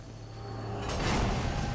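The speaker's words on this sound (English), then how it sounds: "Door unlocked. Puzzle jingle." A door in Darksiders II unlocking after a puzzle is solved, a rising mechanical grinding slide that swells loud near the end over a steady game ambience hum, with no speech.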